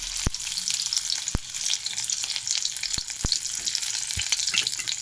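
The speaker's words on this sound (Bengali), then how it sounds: "তো আমি এখন ফুলকপিটা তেলে দেওয়া হবে" Cauliflower pieces fry in hot oil with a continuous crackling sizzle, punctuated by several sharp, close knocks of a utensil against the pan.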